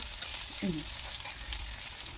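Steady, close-up sizzling of eggplant frying in hot oil, a continuous crackling hiss with no pauses.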